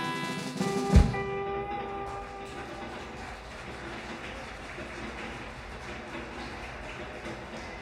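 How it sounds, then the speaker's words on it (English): Train sound effects play as a rumbling rattle of rail cars after a sharp opening thump, holding at a moderate, even level to the end with no clear talk. "Train sound effects."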